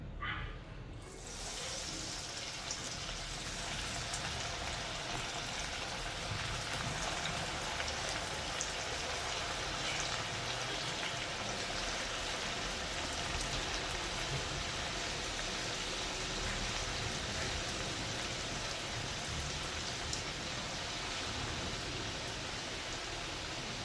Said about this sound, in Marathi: आता आपण याला तेलात तळून घेऊया.